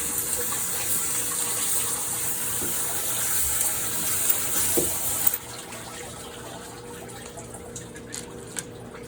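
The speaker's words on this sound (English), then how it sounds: "I'm going to hit it with the water again." Water sprays hard onto rough, void-filled stones being cleaned out of a rock tumbler, a loud steady hiss that cuts off about halfway, leaving faint drips and small knocks.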